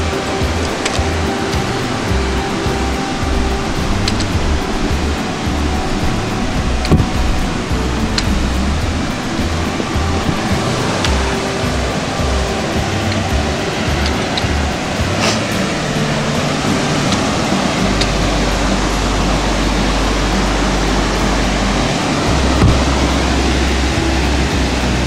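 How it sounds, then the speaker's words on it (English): A waterfall pours heavily over rock, producing a loud, steady broadband roar and rush of water that continues unbroken and close throughout, with no voices. "There's a lot of water coming out over the rock here."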